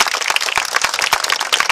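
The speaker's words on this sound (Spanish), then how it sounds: "Dele ese aplauso al Señor." Audience at a world-vision club gathering claps in a lively burst, sharp individual hand claps standing out over a dense, close and loud ovation with no talk.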